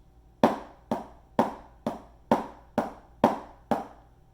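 Eight sharp drum strokes played as single strokes in four pairs, each pair closely spaced with even gaps between pairs, close and unaccompanied with no talking.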